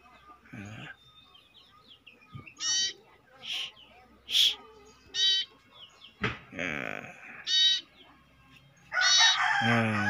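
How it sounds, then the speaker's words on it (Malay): Two-week-old Aceh barn owl chick calling, a series of short harsh raspy screeches repeating at irregular intervals, fairly close, with a few brief voice sounds between calls. "burung sirtu ataupun cepoh, burung sirtu Aceh. Ini baru berusia 2 minggu guys."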